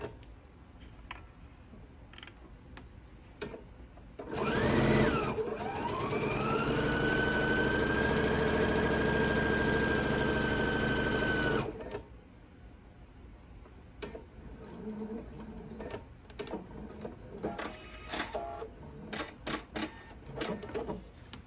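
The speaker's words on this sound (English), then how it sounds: "I'm going to go ahead and I'm going to sew on each side of that center line." A sewing machine stitches a seam on either side of a center line on a quilted table runner: a loud, steady motor whir lasting about seven seconds, framed by softer clicks and handling of the fabric, with no talking.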